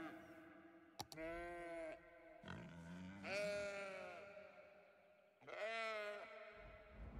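Sheep in the Cities: Skylines city-building game give three long, wavering bleats with short pauses between, clear and close, with a brief click near the start.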